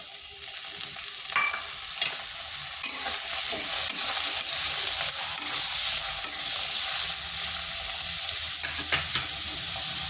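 Cut potatoes and lightly fried onion sizzle steadily in a pan for spring onion greens, with a constant crackling hiss broken by occasional scrapes and stirring clatters.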